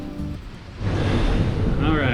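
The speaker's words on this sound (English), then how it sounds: "So the winds are like gusting probably 35, kind of constant 30, and then go down to like 25." Gale-force wind gusting around 35 knots roars past a sailboat at sea, with waves rushing and sloshing against the hull in a loud, steady, broadband din that swells and hisses throughout.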